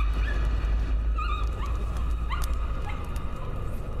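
A dog in the Layers of Fear horror game whimpers and yips as it burns, giving short high cries over a heavy, steady low rumble.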